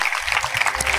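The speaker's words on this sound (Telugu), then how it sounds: "వీరిని బట్టి చప్పట్లు కొట్టి నా దేవుడిని మహిమపరుద్దామా?" A church congregation at a sermon claps in a dense, continuous round of applause, loud and close, for a brief stretch.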